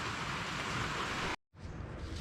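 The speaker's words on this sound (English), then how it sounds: "Just on cue, here comes the rain." Steady, dense rain falling outdoors as a cold front moves through, a loud continuous hiss that briefly cuts out before resuming.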